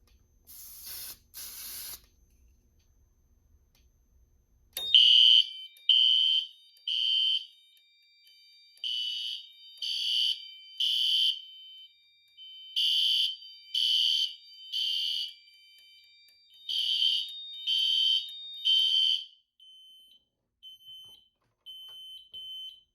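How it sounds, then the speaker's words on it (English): A fire alarm on a Notifier SFP-1024 panel system sounds after a smoke detector test, opening with a brief spray hiss, then a loud, insistent temporal beeping pattern repeating in groups of three and continuing steadily. "So now, let's test the smoke detector."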